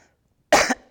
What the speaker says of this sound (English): I have to clear my throat here sometimes so I can talk.